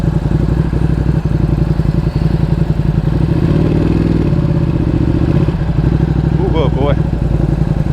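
A Ducati Panigale V2 fitted with a slip-on exhaust on a road ride, its engine a loud, steady pulsing drone that holds throughout with a short rise in revs midway, wind noise layered over it.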